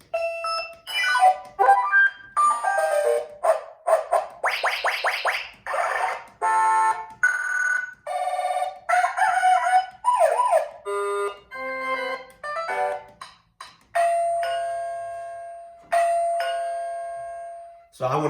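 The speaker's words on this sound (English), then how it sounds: "using the musical selector button, we're going to scroll through the sounds that we want to use for the first push button" A wireless plug-in strobe receiver doorbell cycles through its chime tunes one after another: bright melodic ding-dong and multi-note electronic tones, close and clear, each stopping short as the next begins, with quiet gaps between some of them.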